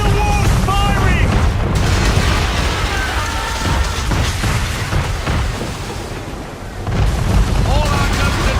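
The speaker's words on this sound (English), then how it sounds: "Man of war's firing!" Heavy cannon fire from a man-of-war ship in the Assassin's Creed 3 video game: a continuous loud barrage of booms and rumbling blasts with battle noise and faint shouted voices throughout.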